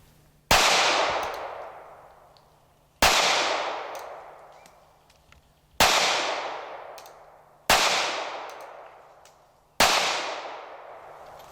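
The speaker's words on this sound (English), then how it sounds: "the first 5 shots I'm going to shoot it at the head kind of slow" Five loud, sharp gunshots from a Smith & Wesson Bodyguard .380 pistol, fired one at a time at a slow, steady pace roughly two seconds apart, each crack followed by a decaying ring.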